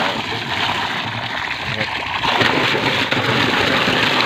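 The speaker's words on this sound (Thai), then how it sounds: "เอาถุงแช่ไปในน้ำเลยนะครับ ถุงก็เริ่มหดตัวแล้วนะครับแล้วก็เปิดใน้อากาศออกมา" A plastic animal-feed bag for fermenting fodder is pressed down into water, giving a steady close splashing and gurgling wash as air is forced out, with someone talking over it.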